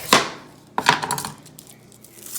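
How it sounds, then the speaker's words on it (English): A knife cutting onion and garlic on a board, two sharp close chopping strikes followed by softer scraping and settling, with no talking. "So the first thing you're gonna do is slice your onion and crush your garlic."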